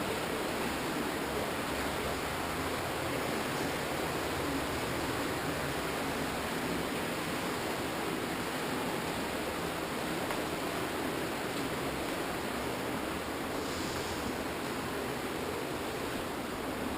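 Underground creek flowing through a cave passage, a continuous even rushing hiss of water with no breaks, steady and moderately soft, heard alone without voices.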